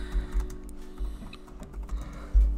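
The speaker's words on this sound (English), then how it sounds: "You're typing it off a lot." Rapid typing on a computer keyboard in a bedroom, a busy clatter of close clicks with a heavier thump near the end, over a low steady hum.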